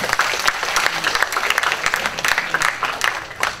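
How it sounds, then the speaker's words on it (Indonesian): A seminar audience applauds after a Waseda University guest is introduced at an AI seminar in Indonesia. Many hands clap in a dense, steady patter that holds at even strength for several seconds, with no voices over it. "Tepuk tangannya dong."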